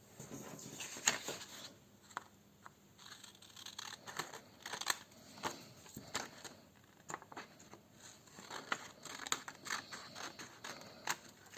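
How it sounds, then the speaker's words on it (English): Scissors cutting a paper blazer pattern at the shoulder, heard as quiet repeated snips with faint paper rustle, close and soft, no voice. "I'll cut it from the shoulder."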